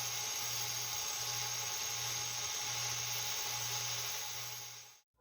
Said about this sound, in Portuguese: vou colocar ele na esmeriladeira e passar ele no esmeril, que dessa forma o excesso será desbastado